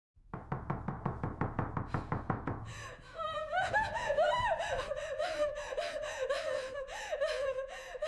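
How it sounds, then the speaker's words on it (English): A rapid run of about a dozen loud, heavy knocks, followed by a voice gasping and laughing nervously. "The violent knocking had shaken the entire house."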